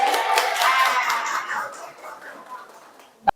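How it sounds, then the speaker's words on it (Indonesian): A burst of group clapping from many hands in a high school classroom that quickly fades out, ending with one sharp slap. "Tepuk tangan semuanya."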